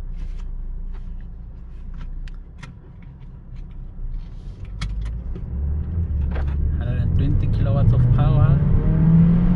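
A Mercedes-Benz A200 AMG Line pulls away after being shifted into D, its engine rising steadily and growing louder toward the end, with someone talking over the early part.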